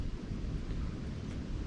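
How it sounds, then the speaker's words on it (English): Gusty wind blowing through the woods around a hunting stand on a deer hunt, a steady low roar buffeting the microphone with no talk. "It's really windy today."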